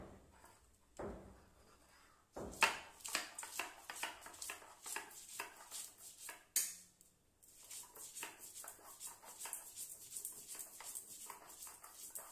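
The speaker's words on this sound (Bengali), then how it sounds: "এগুলি সর্ষের সঙ্গে এখন পাটাতে বেটে দেব" Mustard seeds and green chillies being ground on a flat grinding stone: a faint, steady series of scraping, knocking strokes in an even rhythm, with a short pause after the first strokes.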